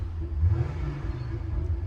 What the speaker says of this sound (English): Somebody decided to rev their car.